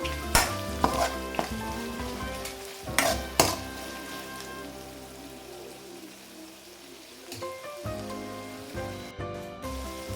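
Chicken liver and gundakayi pieces fry in oil alone without water, giving a crackling sizzle with sharp clacks of a spatula against the pan at the start, a quieter stretch, then renewed stirring.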